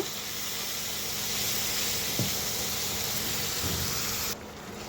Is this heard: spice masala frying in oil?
yes